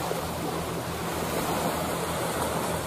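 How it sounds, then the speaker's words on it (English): Sea waves wash in steadily as the tide comes in along the shore at Holywood, County Down, a continuous broadband surf rush with no distinct breaks, moderately loud and close, with no voices. "Tides well in"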